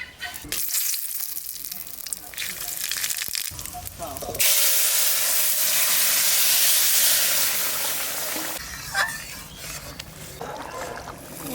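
Bay leaf and cumin fry in oil, with spatula scraping and clatter at first, then a sudden loud, steady hiss of sizzling that gradually eases and is followed by more stirring.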